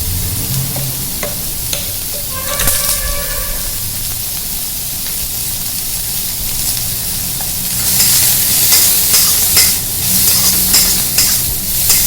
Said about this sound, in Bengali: এবার সোয়াবিনগুলোকে একটুখানি নেড়ে নেবো